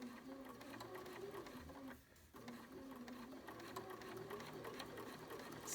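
A Bernina sewing machine fitted with a #88 bias binder stitches bias binding onto a fabric face mask, a fast, even needle clatter running quietly and steadily with one short pause partway through.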